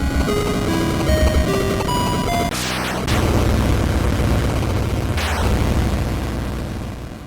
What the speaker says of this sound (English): That's such a good missile command explosion.